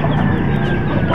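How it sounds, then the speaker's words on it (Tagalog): Young chicks in a coop before sunrise give steady peeping and chicken-like chatter over a dense, noisy background, continuous through the short moment. "ayan yung ating mga sisiw"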